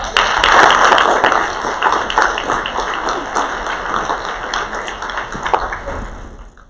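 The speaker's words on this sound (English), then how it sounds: "one more round of applause." Applause at a youth employment closing ceremony in Sumter County rises to a dense crowd clapping peak, then gradually thins into scattered individual claps, with a faint high ringing tone underneath.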